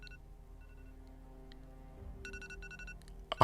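An alarm clock set the night before rings with a quiet electronic tone at first, then breaks into rapid, clustered high beeps, ending in a loud burst of noise.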